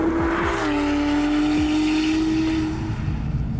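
A naturally aspirated sports car, one of a Mercedes CLK Black Series, Porsche 997 GT3 RS or Ferrari 458, revs loudly and close by with a sustained high engine note, then eases off.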